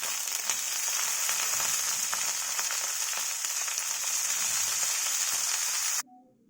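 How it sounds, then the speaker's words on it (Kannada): Spring onion greens sizzle steadily in a hot frying pan, a loud continuous frying hiss with faint stirring clicks that cuts off abruptly near the end. "ಇವಾಗ ನಾನು ಆ ಹೂವು ಹಾಕ್ಕೊಳ್ತೀನಿ"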